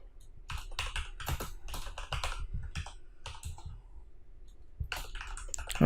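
Typing PHP code on a computer keyboard, clusters of close, clattering keystrokes broken by short pauses, alone without speech.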